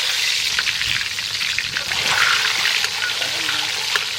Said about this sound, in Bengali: ডিম ভাজা হয়ে গেছে, নামিয়ে নেবো।